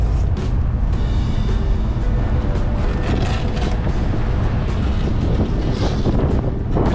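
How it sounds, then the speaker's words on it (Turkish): Steady wind buffets a ship at sea sailing between France and Italy, a broad continuous roar of rushing air and microphone buffeting with hull and water noise beneath, loud and unbroken throughout. "Rüzgar var ama kıştan esiyor, o yüzden çok sıkıntı olmaz."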